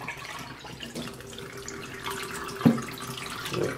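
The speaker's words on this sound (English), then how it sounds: "This clear water running right on you." Clear water runs through a deep bed paper filter, a steady trickle and splash with a few drips and one sharper knock, and no talking.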